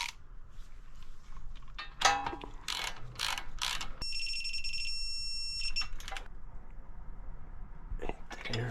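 A torque wrench is used on a ball joint of a 2006 Subaru Impreza WRX STI, with scattered metallic ratcheting clicks in short bursts and a sustained high electronic beep partway through.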